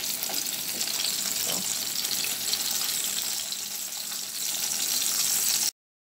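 Green plantains fry in a pot of hot oil, giving a steady, dense sizzle that holds for several seconds before cutting off abruptly.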